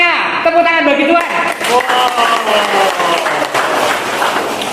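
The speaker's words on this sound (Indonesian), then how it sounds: "Tepuk tangan bagi Tuhan." A church congregation at a Sunday service applauds, the clapping blending with lingering sung or spoken voices and a sustained musical tone, at moderate loudness throughout.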